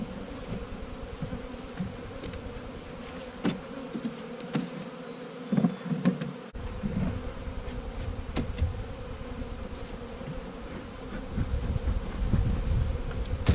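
Honey bees swarm around an open backyard hive, a steady close buzzing drone with individual bees passing near, plus occasional soft bumps of handling and no talk.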